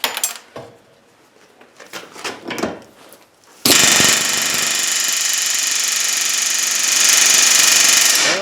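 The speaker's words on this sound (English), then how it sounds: "Then went to a pneumatic hammer, tried to poke it out" A pneumatic hammer works on a rusted-in universal joint: a few scattered metallic knocks and scrapes first, then a sudden loud, sustained rapid hammering that stays close and steady to the end.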